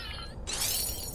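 Sharp burst of glass shattering in the video game Superhot, a single loud crash with bright breaking fragments that rings on briefly after the impact.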